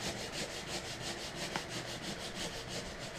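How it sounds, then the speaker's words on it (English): Knife handles being sanded in a shop, with quick, rhythmic back-and-forth rubbing strokes repeating evenly and close up, and no voices. "I am doing the final sanding on the handles"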